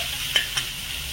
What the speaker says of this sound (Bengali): পনিরটা ভাজার সময় গ্যাসের আঁচটা মিডিয়াম থেকে লো আঁচের মাঝে মাঝে রেখে দিতে হবে